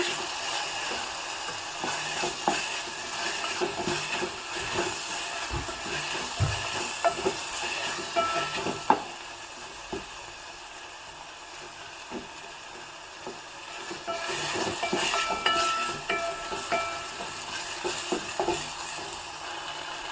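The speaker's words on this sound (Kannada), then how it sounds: "ಸ್ವಲ್ಪ ಉಪ್ಪನ್ನು ಹಾಕಿಬಿಟ್ಟು ಚೆನ್ನಾಗಿ ಬಾಡಿಸ್ಕೊಳ್ಳೋಣ" Vegetables sautéing with salt in a pan while cooking a capsicum dish, a steady broadband sizzle with intermittent scraping stir strokes, close and moderately loud, no voices.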